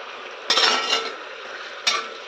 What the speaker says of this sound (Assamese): এফালে মাংসতে আদা দি দিলোঁ, পিঁয়াজ দি দিলোঁ, সকলোখিনি দি দিলোঁ। দি পেলাই অলপ সময় ভাজিম এতিয়া মই